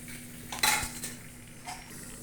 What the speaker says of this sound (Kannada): ಈರುಳ್ಳಿ ಹಾಕ್ತೇನೆ ರೀ, ಅದ್ರಾಗನ ಹುರ್ಯಾಕೆ ಹಸಿ ಕೊಬ್ಬರಿ ಹಾಕ್ತೇನೆ ರೀ, ಕರಿಬೇವು ಹಾಕ್ತೇನೆ ರೀ, ಮತ್ತು ಶುಂಠಿ ಬೆಳ್ಳುಳ್ಳಿ ಹಾಕ್ತೇನೆ ರೀ